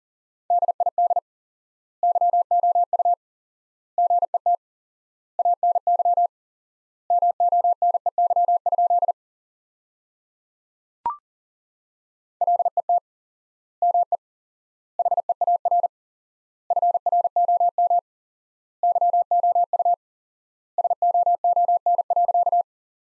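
Morse code sent at 40 words per minute with wide word spacing: a steady mid-pitched tone keyed in rapid dots and dashes, grouped into bursts separated by silent gaps, heard alone and clearly.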